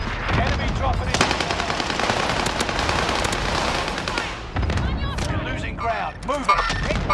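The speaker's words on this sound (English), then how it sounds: "Enemy cluster strike." Cluster strike explosions and gunfire in a Call of Duty-style battle-royale shooter, with a Kilo rifle in use: dense overlapping bursts and rapid rattling fire roll on for several seconds, then thin into scattered shots as voices and radio chatter come in.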